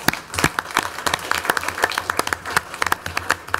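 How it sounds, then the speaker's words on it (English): An audience at a Snoqualmie city council meeting breaks into applause, a dense run of claps that holds steady for several seconds with no talk over it. "So if we give them a round of applause."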